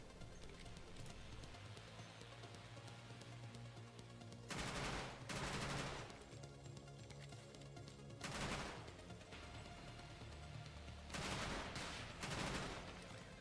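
Repeated bursts of gunfire in the Roblox game Decaying Winter, aimed at the boss Yosef, come as several loud broadband volleys over a steady background of game sound, with no speech.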